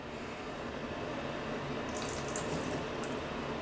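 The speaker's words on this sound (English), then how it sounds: "I'm going to pour out a little bit of the developer" C41 color film developer solution pours steadily from a bottle into a container, a continuous close liquid stream with a slight brightening splash toward the end.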